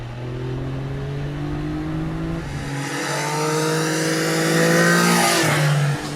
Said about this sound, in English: I open the throttle wide and the bike resumes without a hesitation.